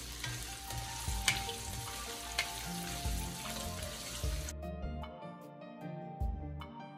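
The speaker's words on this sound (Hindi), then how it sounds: "हल्का सा हम रोस्ट करेंगे।" Cashews are lightly roasted in a pan for jaggery rice, giving a close, steady sizzle with soft scraping stir strokes that fades partway through.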